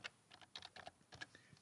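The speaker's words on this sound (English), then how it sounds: "So I could, for example, type in the word jurisdiction" Keys clatter on a computer keyboard as a word is typed, a quick irregular run of soft clicks, close and quiet, with no voices.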